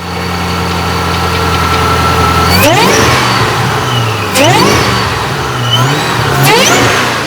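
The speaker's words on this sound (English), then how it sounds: "This is one of the most famous Shelby Mustangs in the world." A famous supercharged Shelby Mustang with a Kenny Bell supercharger system and about 1,000 horsepower idles loudly up close, then is revved sharply three times, each rev rising and falling back to a rumbling idle.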